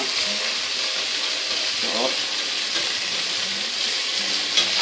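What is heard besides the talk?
pork stir-frying in a pan with soy and oyster sauce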